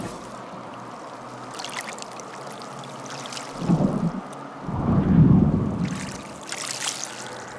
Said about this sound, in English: I got an incoming storm, no storm crystals, no animals, no shelter.